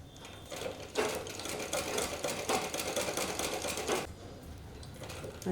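A sewing machine stitches tulip sleeves for a blouse in a fast, even run of needle clatter lasting a few seconds, framed by quieter moments before and after.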